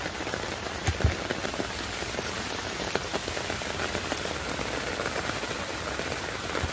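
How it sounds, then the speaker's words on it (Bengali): Rain falls on a rooftop garden in an even, close, continuous patter, with a few sharper drops landing near the start. No talking. "যদি ছাতা নিয়েও হয় তাহলেও আমি বৃষ্টির সময় বাইরে চলে আসি"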